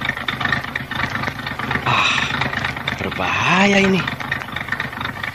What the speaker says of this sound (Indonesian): Seperti ada yang tidak beres pada mesin mobil ini.